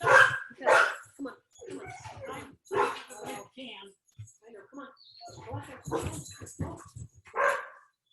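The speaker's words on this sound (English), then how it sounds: "There goes the dog." A pet dog barks several times in a home, the sharp yips mixed in among a person talking nearby, fairly close and moderately loud.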